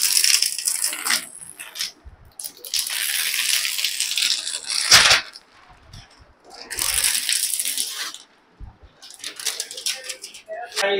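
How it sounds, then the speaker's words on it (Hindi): Plastic wrap being pulled off a new Crown 43-inch smart LED TV, giving close, loud crinkling and rustling in several bursts separated by short pauses and soft knocks. "तो गाइस सबसे पहले इसकी पन्नी निकाल लेते हैं"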